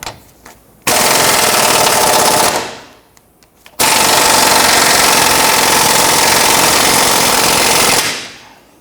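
A pneumatic impact wrench loosens a 19mm control arm bolt on a 1992-1996 Toyota Camry, hammering loudly and close in two sustained bursts, the first about two seconds long and the second about four, separated by a brief pause.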